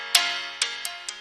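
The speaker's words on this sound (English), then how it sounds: "are the harmonics added by the exciter" Piano heard only through the harmonics of Logic's stock exciter with the dry signal off: thin, bright, airy tones on a few separate note attacks, each decaying smoothly, alone and fairly close.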